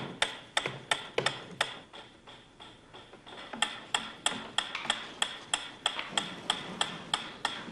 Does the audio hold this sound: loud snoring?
no